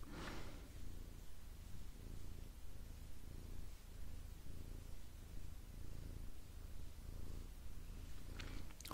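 A sleepy pet cat purrs close to a microphone in a quiet room, a soft, continuous low rumble pulsing steadily with each breath, with faint brushing rustles near the start and end.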